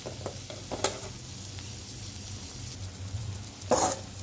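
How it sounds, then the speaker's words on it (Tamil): Potatoes sautéing in hot oil for a green chickpea (channa) gravy, a faint, steady sizzle broken by a few soft clinks of stirring, with no talk. "உருளைக்கிழங்கு போட்டுட்டு ஒரு 2 நிமிஷத்துக்கு உருளைக்கிழங்கு இந்த ஆயிலே வந்து நல்லா வதக்கிக்கலாம்."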